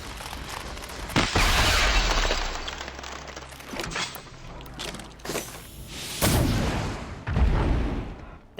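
A mortar-like weapon firing in the video game Horizon Zero Dawn: loud booming blasts with cracking bursts and rumbling, roughly three or four heavy impacts spread across the span, with a humming tone and game noise in between.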